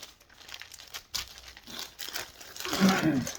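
Two pieces of tape torn off a roll, crinkling and ripping sounds rising to a louder tear near the end, with quiet talk alongside.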